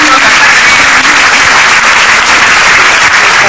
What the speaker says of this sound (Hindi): शानदार तालियां लोगों से